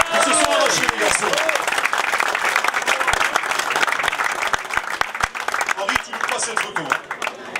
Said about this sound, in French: vos applaudissements quand même